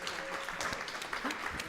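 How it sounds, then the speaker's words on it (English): A conference audience applauds with steady, even clapping, moderately loud and continuous, with a few voices faintly mixed in. "Please give them a round of applause, everyone."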